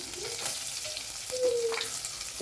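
Curry leaves and ground pepper-cumin spices frying in oil for Tamil tomato rasam, a soft, steady sizzle close up with a few light stirring clinks and scrapes, no voices.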